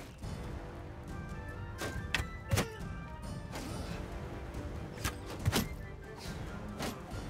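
Combat from horseback in Mount & Blade II: Bannerlord, with the Realm of Thrones mod: a dense battle din with several sharp impact cracks and thumps, two standing out clearly, over a steady rumble of fighting.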